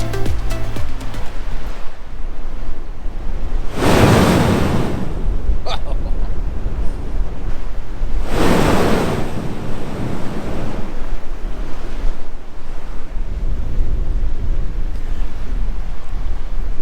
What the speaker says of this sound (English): There's a pretty lumpy swell rolling through there at the moment, and there's not much sea spray coming up.